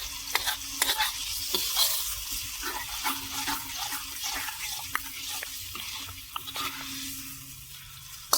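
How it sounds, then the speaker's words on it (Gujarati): Tomato and onion gravy for pav bhaji being stirred in a pan, a steady sizzle under repeated scraping strokes of the spoon, close and continuous with no talking. "હવે આ ગ્રેવીને આપણે પાકવા દઈશું હલાવીને"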